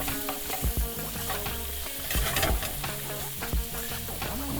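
Shrimp frying in a pan make a busy, crackling sizzle with scattered pops and the scrape of stirring, close and steady throughout with no voices.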